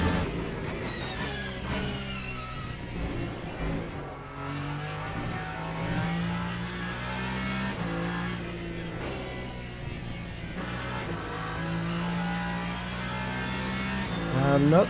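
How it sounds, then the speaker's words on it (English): A Ferrari race car in the racing game Le Mans Ultimate drives on at a sustained engine drone, its pitch rising and falling through gear changes and throttle shifts, with no talk over it. "I'm starting to get a bit more of a feel for that Ferrari again, but it's still a bit edgy to drive."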